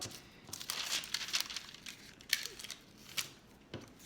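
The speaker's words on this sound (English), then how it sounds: "tearing off a sheet, about this big or so" A sheet of wax paper is torn off and handled, giving faint crinkling and rustling crackles in irregular bursts, close and quiet.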